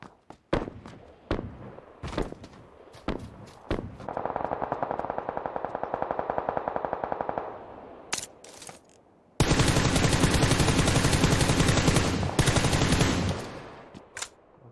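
Gunfire in the video game PUBG Lite: scattered single shots and thuds, then a long sustained automatic burst, followed by a louder, harsher stretch of rapid fire, all close and loud.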